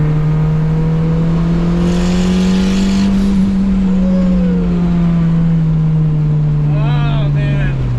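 A Mitsubishi Evo wagon's engine idles and revs nearby, a loud, steady buzzing drone that rises and falls in pitch, with brief chirps and rattles over it.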